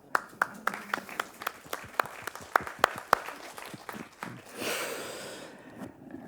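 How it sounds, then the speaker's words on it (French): A few people clap at a round-table forum, distinct sharp claps in a loose rhythm for about four seconds before breaking into a brief softer burst that tails away. "J'ai envie d'applaudir."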